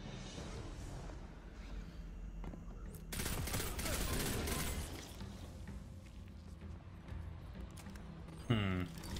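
Rapid Destiny 2 gunfire, with dense overlapping shots building into a loud sustained volley midway, then easing back into a rumbling ambience. A short sharp burst comes near the end.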